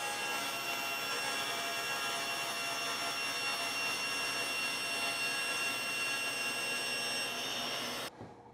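A power saw blade cuts through wood for a piano-shaped jewelry box, a steady loud whining grind that runs without pause for about eight seconds before cutting off abruptly.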